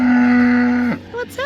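A cow gives one long, loud, close moo, followed by a few short, higher calls at the end.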